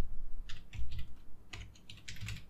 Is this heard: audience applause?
no